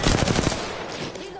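Rapid bursts of automatic gunfire from a PS4 online shooter, loud and dense in the first half second, then trailing into reverberant echoes and game ambience.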